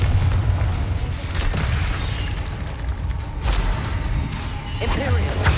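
A Confringo fire spell goes off in Hogwarts Legacy, with booming blasts and crashes among game effects and a brief sharp burst near the end, mid-level and continuous.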